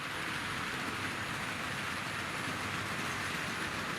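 A Tri-ang Super 4 model train, an R.855 pulling five teak coaches and a couple of horse boxes, runs steadily around a layout at scale speed, giving a constant close rolling rumble and wheel noise with no pauses.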